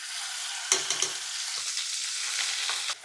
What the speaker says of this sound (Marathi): यामध्ये तयार केलेली ग्रेव्ही घालायची